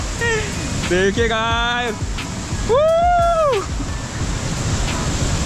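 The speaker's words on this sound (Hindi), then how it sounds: "देखिए क्या भयंकर सा वाटरफॉल है, देख सकते हो।" On the Madhyamaheshwar trek in the Himalaya, the Baahubali waterfall gives off a steady broadband roar throughout, while someone speaks over it.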